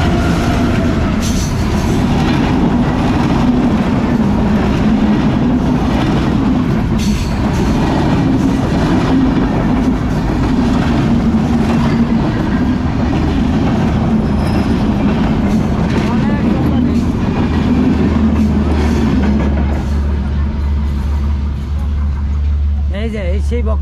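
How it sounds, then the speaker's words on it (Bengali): A train passes along a railway track close by, a loud continuous rumble and clatter of wheels and wagons lasting the whole stretch, with people talking over it. "এই যে ট্রেনটা এখন যাইব এই জায়গা দিয়া"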